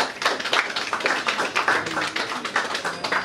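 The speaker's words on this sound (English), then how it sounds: "A round of applause for Abuja" Lively applause from a pageant audience, many hands clapping in a quick, uneven patter that stays loud and steady throughout.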